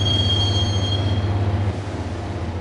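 A subway train rides the rails in the video game Max Payne, with a loud, steady rumble under a sustained metallic wheel squeal that eases off near the end.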